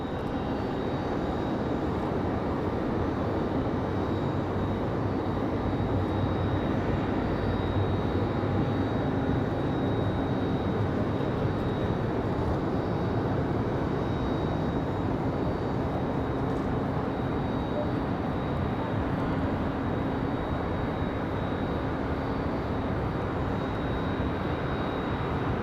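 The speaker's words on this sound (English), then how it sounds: "All right, here we go. Dreamliner time. Enjoy the Dreamliner." Boeing 787 Dreamliner at Raleigh-Durham International, a continuous, even jet engine rumble and roar sustained for the whole stretch without voices, steady rather than rising or fading.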